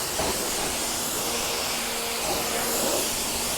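An electric pressure washer sprays water onto a car's paint during a wash, giving a steady, loud hissing rush that holds without a break.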